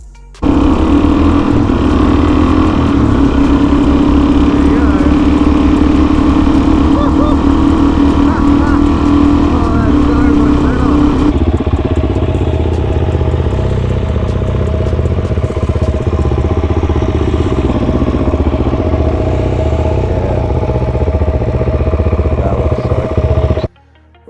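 A Suzuki DRZ400E motorcycle with a newly installed Stedi MCX10 headlight rides along, its engine droning loud and steady up close with a shift in pitch midway, under wind rush and a voice talking over it.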